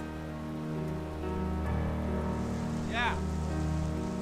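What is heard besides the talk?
heavy rain falling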